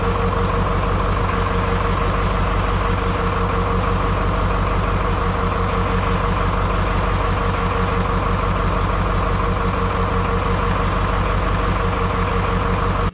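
A Detroit 8.2L diesel engine runs steadily throughout, a loud close-up drone with a deep low rumble and constant mid-range roar at a fairly even speed, no voices.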